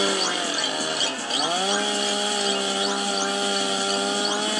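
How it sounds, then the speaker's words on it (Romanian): A chainsaw runs steadily at high revs, with a brief dip in pitch near the start before climbing back, loud and continuous throughout. "Haide, Teodor, mai încearcă tu cu drujba."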